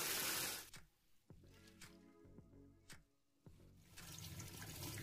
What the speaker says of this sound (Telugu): ముందుగా శనగపప్పుని, కందిపప్పుని ఒక దాంట్లో వేసుకుని 2-3 సార్లు నీట్గా కడిగి